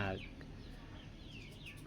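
Chickens on a Thai farm raising fighting-cock chicks cluck faintly in short bursts over a low, steady background murmur.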